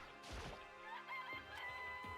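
A rooster crows in the Danganronpa: Trigger Happy Havoc video game, a loud, close, drawn-out cock-a-doodle-doo with clucking and a crashing hit, no voices over it.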